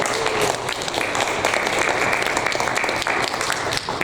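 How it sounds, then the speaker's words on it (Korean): A church congregation at a Korean Presbyterian Sunday service claps in a sustained, lively wash of applause, dense and fairly close, with individual claps standing out and a faint tone lingering beneath. "다시 한번 우리 박수."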